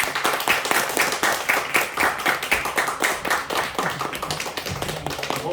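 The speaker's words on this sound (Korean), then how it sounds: "나오실 때 우리 큰 박수로 환영했으면 좋겠습니다" A church gathering claps loudly to welcome a pastor, dense continuous applause from many hands.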